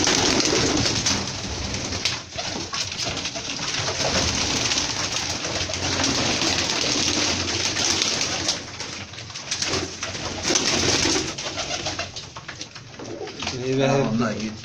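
Pigeons coo near and far at a pigeon breeders' gathering, throaty calls layered under steady crowd noise and loud nearby talk throughout.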